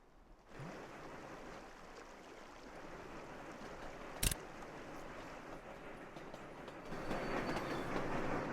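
A train runs in the railway-building video game Sweet Transit as a steady rumbling, rolling wash that holds throughout, broken once by a sharp click, then swells slightly louder near the end.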